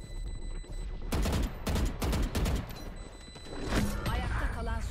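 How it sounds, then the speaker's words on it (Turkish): Gunfire and effects fill a round of Valorant as the spike bomb explodes, a loud burst of crackling blasts amid the game's sounds, with players talking over it. "Bomba patladı zaten."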